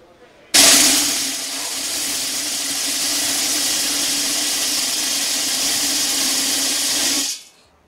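Five hundred small metal BB pellets pour steadily into a metal soup pot, a loud hissing rattle that starts abruptly, holds for several seconds, then stops.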